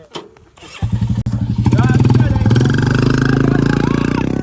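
A Royal Enfield Bullet motorcycle starts up close by and settles into a loud, steady thumping idle, with a voice talking over the engine.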